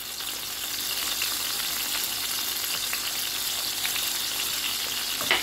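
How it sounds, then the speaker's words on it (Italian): Cherry tomatoes and kohlrabi sizzle and crackle in a frying pan while being stirred, a steady close hiss with small pops and no talking. "Mescoliamo"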